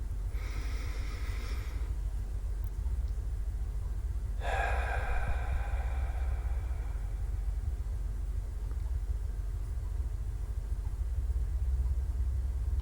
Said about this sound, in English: taking a deep breath in, a slow exhale, and then again another deep breath in